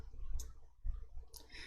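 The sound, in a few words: mouse click in Excel menu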